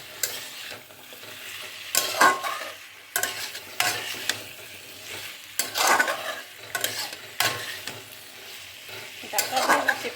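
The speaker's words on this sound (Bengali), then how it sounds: "ডাঁটাগুলো দিয়ে একটু কষিয়ে তারপরে জল দেবো।" Mint stems for a fish curry being stir-fried in a pan, steady sizzling broken by rhythmic scraping strokes of a spatula roughly every two seconds, close and moderately loud.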